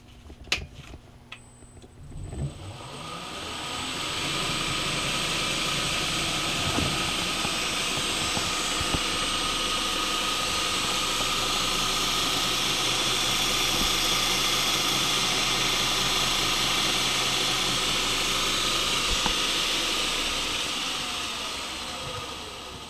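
A belt grinder fitted with a tracking wheel is switched on with a few clicks and thumps, then spins up into a loud, steady whir and hum that holds for about twenty seconds before easing off slightly at the end.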